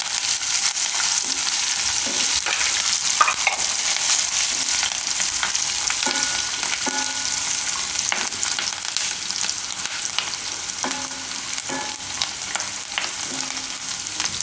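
Curry leaves and chillies sizzle and crackle in hot oil for a Gujarati fasting dish of curd sabudana, a steady close frying hiss with sharp spattering pops throughout and no talking.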